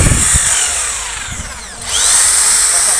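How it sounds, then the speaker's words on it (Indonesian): An Ellka EL8 electric drill runs unloaded, its loud high motor whine easing down in pitch before spinning back up to full speed, with no voices over it. "sekarang kita coba jajal suara dari bor ini sebelum"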